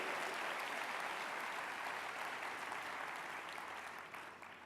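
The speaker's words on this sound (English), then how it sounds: "you all ought to clap for that" An audience at a volunteer-service gathering in Atlanta breaks into sustained, even applause, a dense wash of clapping heard from a distance that holds steady and then begins to fade near the end.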